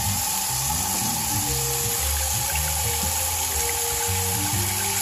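Tap water runs steadily into a sink to soak frozen bear meat for thawing, a loud continuous rushing flow with a low hum beneath it.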